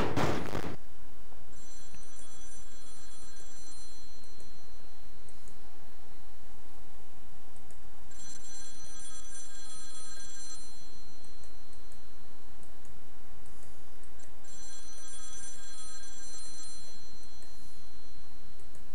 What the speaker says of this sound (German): Das ist Ihr Telefon.